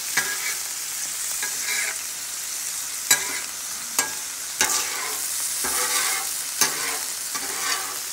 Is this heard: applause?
no